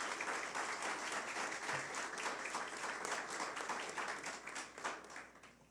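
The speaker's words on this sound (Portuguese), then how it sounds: "pedir uma salva de palmas à nossa querida Kátia" An audience applauds steadily to welcome Doctor Kátia at a Brazilian Ministry of Education event, with dense, sustained clapping throughout and a faint voice underneath.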